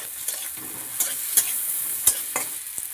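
Onion frying with tempering spices in a pan, a bright continuous sizzle broken by several spatula strokes and clinks as it is stirred, close up and without talk.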